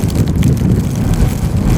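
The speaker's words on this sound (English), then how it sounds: "Winds gusting toward 30 miles per hour." Strong winter storm wind gusts across open ground during near-blizzard snow conditions in Indiana, a loud, blustery roar buffeting the microphone with a deep rumble that surges and dips without pause.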